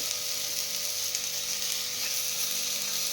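Onion and coriander seeds sauté in a little oil in a pan, giving a steady, close sizzle that runs unbroken with faint stirring and no voices.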